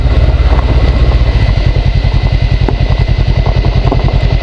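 A motorcycle rides along a rough, technical stretch of old dirt road, its engine pulsing loud and steady up close, with rattling and clatter from the bumpy surface throughout.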